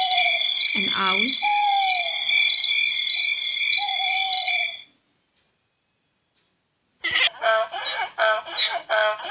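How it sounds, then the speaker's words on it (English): An owl calling in a busy natural setting, with a continuous layered trill and a few low swooping notes for about five seconds. After a silent gap, a louder, rougher burst of rhythmic calling starts. "an owl"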